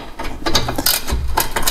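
A ratchet wrench works a rear shock bolt on a Jeep Liberty KJ, producing rapid, loud, close clicking in uneven bursts of pawl ratcheting with no talk.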